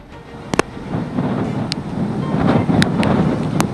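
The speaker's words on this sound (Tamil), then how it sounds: "இந்த காற்றின் வேகம் என்பது தற்போது ஆலையை தள்ளக்கூடிய அளவுக்கு, ஒரு ஆள் நிற்க முடியாத அளவிற்கு காற்றினுடைய வேகம் அதிகரித்து கொண்டிருக்கிறது." Strong cyclone wind buffets the microphone on the Chennai coast, a loud continuous roar that builds steadily, with a few sharp gust cracks and possible surf underneath and no speech.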